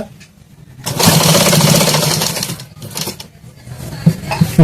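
An electric sewing machine stitching a katori blouse: after a brief quiet start, a loud, close, rapid mechanical chatter runs for about two seconds, then breaks into shorter bursts and clicks as the fabric is adjusted.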